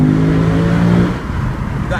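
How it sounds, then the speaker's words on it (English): A Lexus RC-F sports car's engine revs hard inside a tunnel, a loud, reverberant roar holding a steady pitch before the revs drop and settle into a rumbling idle. "I'm going to let you hear exactly what this engine sounds like when you want to give it"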